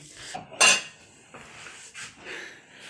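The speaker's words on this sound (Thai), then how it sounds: "เก็บจานจ้าเก็บจานล้างจานค่ะล้างจาน" Dishes and cutlery are cleared and washed at home: ceramic plates clink and scrape, one sharp loud clatter stands out, then quieter knocks and rattles follow.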